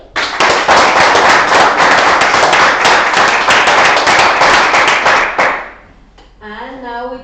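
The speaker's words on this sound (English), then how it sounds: "And now we clap for the environmental scientists." A classroom of tenth-grade students claps loudly and steadily for a debate team for about five seconds, the sound thick with many overlapping hand claps, before it stops abruptly and a voice begins talking.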